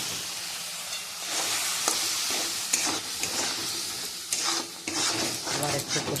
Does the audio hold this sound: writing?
no